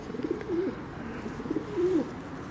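Feral pigeons gathered near a person's bag outdoors coo in two distinct rolling phrases, close and moderately loud, with a quiet gap between them and no talk.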